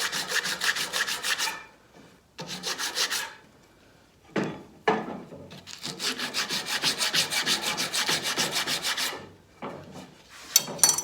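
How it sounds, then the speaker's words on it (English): Sandpaper wrapped over a file rasps back and forth against a sharp edge of reclaimed oak, in close bursts of scratchy strokes separated by short pauses. "I'm just using my sandpaper over the file here just to take off this sharp edge"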